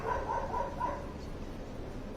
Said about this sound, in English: she can hear dogs barking